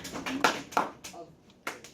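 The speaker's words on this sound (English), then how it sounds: "give him 2 claps" A class claps in a math classroom, with a few quick, sharp hand claps spaced apart over a quiet room, mixed with brief speech.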